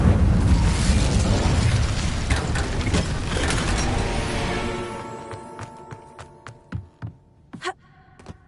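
The Incendio fire spell is cast in Hogwarts Legacy: a loud roaring whoosh of flame that slowly fades, followed by a few scattered clicks and mechanical clunks.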